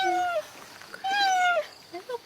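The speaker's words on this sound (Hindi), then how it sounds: "चीता तो मुझे लगता था कि दहाड़ता होगा, बट ये तो म्याऊं म्याऊं कर रहा है बिल्ली की तरह" A cheetah gives two clear, high, cat-like meows, each about half a second long, followed by a few shorter chirping calls, close and distinct with no talk over them.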